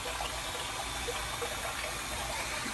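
Water steadily filling a KUPPET compact twin tub portable mini washing machine through a hose, a continuous broadband rush and gush held at an even level throughout, with no voices.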